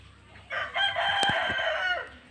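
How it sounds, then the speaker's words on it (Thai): A fighting rooster on a farm breeding gamecocks crows once, a loud drawn-out cock-a-doodle-doo rising and then tailing off, close by and clear over faint background noise. "นี่ไก่ชนของแท้ครับ"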